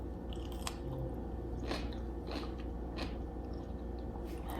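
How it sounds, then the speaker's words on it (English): Crunchy bites into a sour pickle, a few sharp crisp crackles spaced over a few seconds, close up against a steady low background hum, no talking. "Now that's a crunch."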